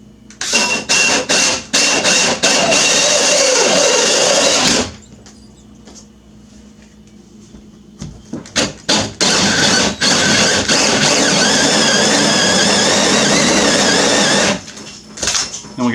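A power drill with a hole saw bores a doorknob hole through a door, grinding loudly in two long bursts separated by a quieter pause, close up with no talking.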